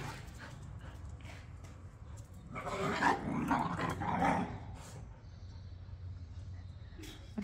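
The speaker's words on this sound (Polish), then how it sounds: "Mamy wściekłe psy." Several dogs growl and snarl in a low rumbling tangle that builds to a louder flurry of barks and whimpers near the middle, then fades back to a quieter background rumble.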